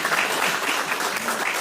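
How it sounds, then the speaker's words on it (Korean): Steady, dense applause fills a political party leadership meeting in Ganghwa County, Incheon, a crowd clapping continuously at full loudness with no voices on top. "뜨거운 격려의 박수 부탁드리겠습니다"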